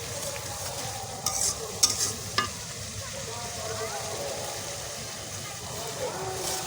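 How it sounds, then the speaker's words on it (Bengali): Spice paste fries and is stirred in a pan for a soybean dish in a village kitchen, with a steady sizzle broken by a few scraping strokes and a voice heard faintly at times. "এই যে আমরা মশলাটা ভুনে নিচ্ছি"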